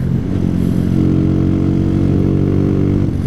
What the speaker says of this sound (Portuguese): Dando uma voltinha aí na BR com a moto, dando uma esticadinha.